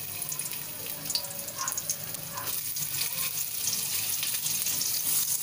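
Ginger frying in a little oil, a continuous hiss and crackle that swells slightly over several seconds, close and steady with no talk.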